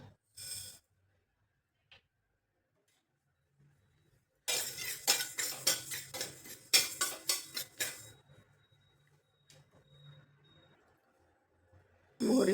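Mustard seeds roast in a pan after fennel seeds, with a burst of rapid crackling pops and rattles from stirring lasting a few seconds, then quieter scattered clicks amid near silence.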